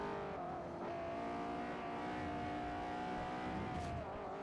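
A car engine in Forza Motorsport 4 revs steadily and climbs into its VTEC range, a sustained, fairly faint tone with no talk over it.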